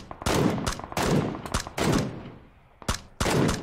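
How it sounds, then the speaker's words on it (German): Bursts of automatic gunfire in a squad-based shooter video game, several loud rapid volleys separated by short pauses, with one brief single shot near the end, close and without talk. "Ich schieße den Gilly ab."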